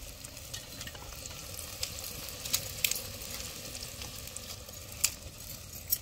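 Dried red chillies and bay leaves frying in hot oil for a village-style clay pot chicken, a continuous close sizzle with scattered sharp pops and stirring scrapes, no talking.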